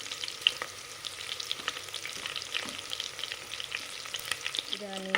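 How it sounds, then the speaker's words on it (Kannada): Onions with curry leaves frying in a pan for Mangalore chicken sukka, a steady close crackling sizzle with scattered sharper pops and stirring scrapes throughout, no voices. "ಇದನ್ನು ನೀಟಾಗಿ ಕೆಂಪಾಗೋ ತನಕ ಫ್ರೈ ಮಾಡ್ಕೊಳ್ಳೋಣ, ಬಾಡಿಸ್ಕೊಳ್ಳೋಣ."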